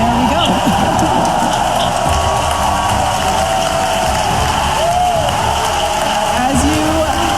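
A crowd watching SpaceX's third Starship flight test cheers and applauds at engine cutoff of the ship's six Raptor engines, a continuous rushing roar, partly distant, under a commentator's talk.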